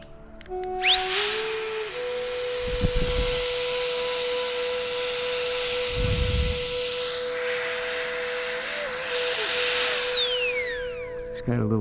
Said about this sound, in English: this is called the Foxtail, and it's a pump